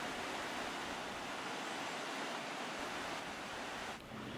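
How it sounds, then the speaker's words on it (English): Steady broadband rush of the Kiyotaki River's flowing water in the mountainous Takao area near Kyoto, Japan, continuous and fairly close, with no voices over it. "Takao is irrigated by the Kiyotaki River."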